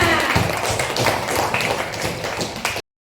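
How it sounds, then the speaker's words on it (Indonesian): Children and their teacher clapping in a classroom, close, uneven hand claps and taps with thumpy hits, continuing briskly until cutting off abruptly. "Tepuk tangan dulu untuk kita semua"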